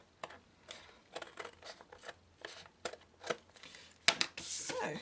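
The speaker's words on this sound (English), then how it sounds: "then just take the excess off with a pair of scissors." Scissors trimming excess card off a handmade Easter card, a series of short crisp snips at an irregular pace, close and fairly quiet, ending with a brief rustle of the card.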